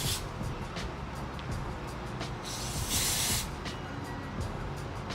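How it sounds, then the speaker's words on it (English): Hairspray hisses out of a can in short bursts along a hairline, with one longer, louder spray in the middle, all close up over a quiet room. "And also gonna take my hairspray."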